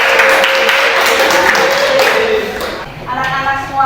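A classroom of students applauds with a short burst of clapping that fades after about two and a half seconds, followed by a tone and a voice speaking.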